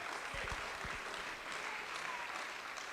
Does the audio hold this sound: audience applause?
yes